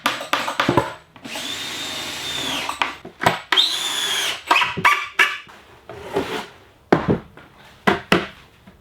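Cordless drill or driver running screws to fix three legs onto an old wire spool end, making a small table; repeated short whirring bursts with stops between, close and fairly loud, no talking.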